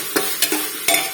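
Salt being stirred into food cooking in a pan, with a few soft scraping strokes of a spoon over a faint sizzle, spaced unevenly and close by.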